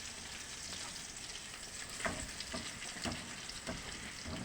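Shrimp and garlic fry in a pan with a steady hiss and crackle. A few sharper pops rise above the sizzle, and no one speaks.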